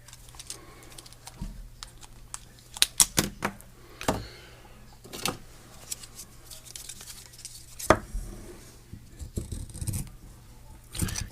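Scissors cutting fur fabric to make a microphone windscreen, a series of crisp snipping and scraping clicks in irregular bursts, close and fairly quiet.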